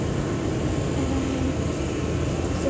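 High-speed train rolling past as a steady, loud, broadband rumble and rush that holds even throughout, with no voices heard.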